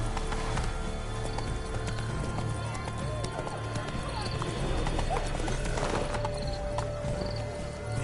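A horse in The Witcher 3 gallops with steady, rapid clip-clop hoofbeats and a whinny over a continuous game background, with voices present.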